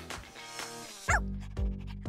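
A small dog barks a couple of times, sharp close yips over background music in a children's craft setting.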